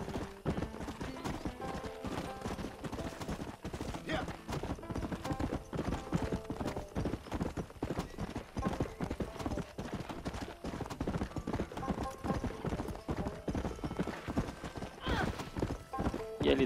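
A horse gallops in the video game Red Dead Redemption, with a fast, steady clip-clop of hooves running continuously throughout and a brief whinny.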